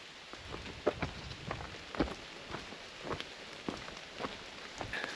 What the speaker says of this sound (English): it's not raining crazy, but it's a pretty decent consistency right now